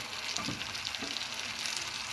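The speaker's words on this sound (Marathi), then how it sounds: "तो टमाटा टाकला तरी असं छान असं भाजून घ्यायचं आहे" Tomato and onion fry with cumin in hot oil in a pan, giving a steady, soft, close sizzle with faint stirring scrapes and no talking.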